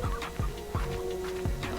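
Chickens cluck in the video game Slime Rancher, short repeated clucks in a quick, uneven rhythm, fairly close and loud over a steady game background.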